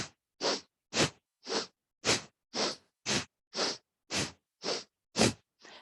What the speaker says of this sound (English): now start to pump your breath so that you're doing a Bastrika breath or a bellows breath